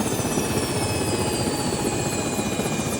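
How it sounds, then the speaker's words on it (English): Helicopter rotor blades thump in a loud, steady, continuous drone, close and unbroken, with no voices over it. "One thing about this helicopter, the blades sound"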